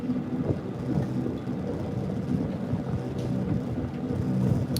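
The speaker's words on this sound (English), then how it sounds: "Oh Lord, it's super windy." Steady roaring wind buffeting the microphone, a constant low rumble with gusty swells and no voices.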